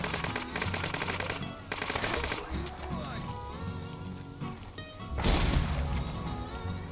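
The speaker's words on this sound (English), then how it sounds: "shoot some bandits who spawned right in front of me" Rapid automatic gunfire in S.T.A.L.K.E.R. Anomaly as bandits are shot, dense bursts with short pauses over game ambience, with someone talking over much of it.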